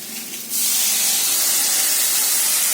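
Jackfruit for a prawn curry boils in a pot, giving a steady loud hiss that begins softer and swells after half a second, then holds evenly to the end.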